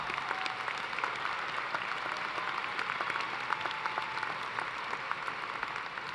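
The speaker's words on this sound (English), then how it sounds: "Let's give them a big round of applause." A large audience at a fall university commencement ceremony claps steadily, a dense, even wash of applause that is sustained and fairly distant throughout.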